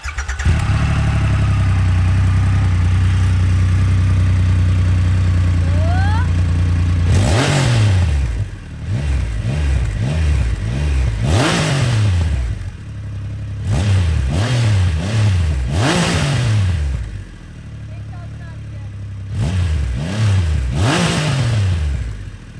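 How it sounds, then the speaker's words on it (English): A Triumph Rocket 3 GT's big inline-three motorcycle engine starts with a whirr and settles into a deep idle, then rises through a series of loud throttle blips that fall away between revs, close up and free of speech. "Let's start her up and listen to the beauty of the inline 3."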